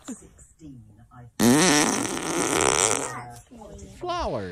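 A squeaky fart that starts low and rises to a high pitch, loud and sustained for about two seconds, with people talking and laughing around it.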